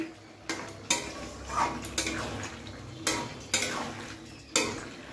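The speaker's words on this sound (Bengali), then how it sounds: "দিয়ে আমি ভালো করে একটু ফের নাড়িয়ে দেবো" A spoon scrapes and knocks against a pot while jackfruit and prawn curry is stirred, several distinct clanking strokes spaced about a second apart over a low background, close up with no voices.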